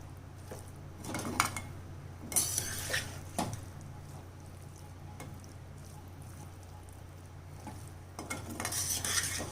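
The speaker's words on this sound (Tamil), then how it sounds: "மிக்ஸில் சாதத்தை போட்டு கிளறிக்கலாம்." Cooked rice being stirred into a raw mango and tamarind puliyodharai mix, with soft scraping and squishing of a spoon against the vessel in several short bursts over a quiet background hum.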